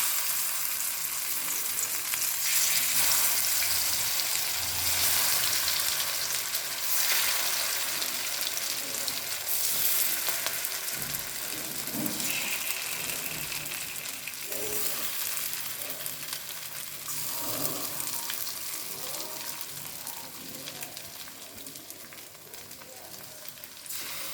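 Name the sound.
prawns frying in hot oil and ghee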